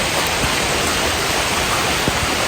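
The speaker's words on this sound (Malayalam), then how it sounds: "പക്ഷെ ഇവിടെ എത്തുമ്പോൾ നല്ല മഴയാണ്." Heavy rain pours down by a swimming pool in Wayanad, a loud, dense, unbroken wash of noise with a few sharper splashes.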